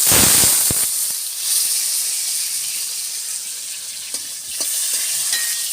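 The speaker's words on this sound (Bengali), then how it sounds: "এবার আমি ভালো করে এটা ভেজে নেব" Raw green mango pieces sizzle in a pan with mustard seeds, a loud crackling fry at first that settles into a steady hiss, with a few light clinks of stirring.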